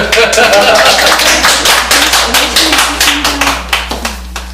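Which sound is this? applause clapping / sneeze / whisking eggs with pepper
applause clapping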